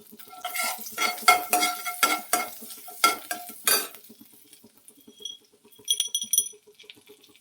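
A spoon stirs and scrapes in a pan as cumin seeds fry in melted butter, giving clinking strokes followed by a soft, quiet sizzle and a few light metallic taps.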